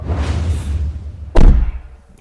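Ford Mustang Shelby GT500 door slamming shut once, a loud close thud after a moment of muffled rustling, then quickly fading.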